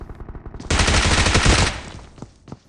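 Automatic gunfire in the battle royale game BGMI: a loud, rapid burst of shots rattles for about a second, then a few scattered quieter shots follow.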